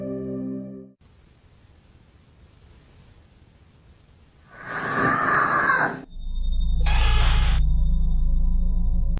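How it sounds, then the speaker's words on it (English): A woman screams suddenly in a home, picked up by an indoor security camera: a loud, harsh burst after several seconds of quiet hiss, then a second shorter cry over a low hum. "A scream from out of nowhere sends her daughter running out of the room."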